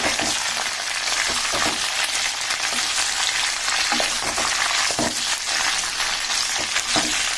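Tamarind juice sizzles in a hot frying pan, a loud, steady crackling hiss with scattered sharp pops and stirring scrapes that carry on throughout.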